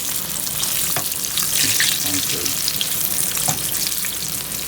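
Spanish mackerel pieces frying in hot oil while being turned, a loud continuous crackling sizzle heard up close, with a few soft knocks from the pan.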